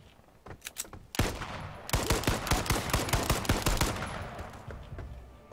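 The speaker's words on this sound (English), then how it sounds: "I'm in a goddamn firefight with an asshole!" Rapid video game gunfire during a DotA 2 firefight, dense bursts of automatic shots that build into a sustained, loud volley, close and without talk.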